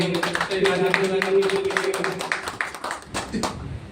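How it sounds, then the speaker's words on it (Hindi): Audience applause at a Hindi-language organizational meeting, rendered as a long stretch of irregular, overlapping claps over a steady tonal hum in the first half, then thinning to scattered claps toward the end. "इस बार हम चाहेंगे जोरदार तालियां"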